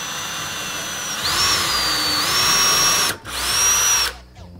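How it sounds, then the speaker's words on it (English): A power drill bores a pilot hole into the center of a marked circle in wood for a floating shelf, a loud steady whine that rises and dips in pitch, briefly stops, then runs again before cutting off. "I'm going to drill a pilot hole into the center of that circle"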